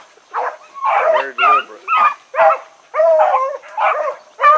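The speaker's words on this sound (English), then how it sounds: "There's Choco on a rabbit." Rabbit-hunting hounds bay in a long run of drawn-out, wavering howls and yips, loud and close, overlapping in steady bursts while chasing a rabbit outdoors.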